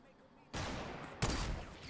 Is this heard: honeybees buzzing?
no